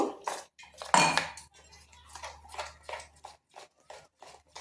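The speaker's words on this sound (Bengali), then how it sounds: "এই মশলাগুলো সব আমি জল দিয়ে ভালো করে মেল করে নেব।" Gram flour batter with spices and water being stirred in a bowl for egg chops, a utensil scraping and clinking against the dish in uneven close strokes, with short pauses between them.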